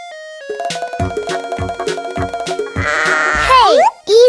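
Sheep bleat on a farm at feeding time while tonal music plays over them, and a voice-like wavering tone rises near the end.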